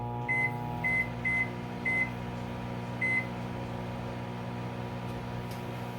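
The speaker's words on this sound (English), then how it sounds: "I want you to put it in the microwave on 3 minutes" A microwave oven running with a bag of popcorn inside, a steady low hum and whir with a few short, faint, high-pitched beeps early on.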